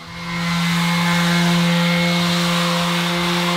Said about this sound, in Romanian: deci le șlefuiesc pe toate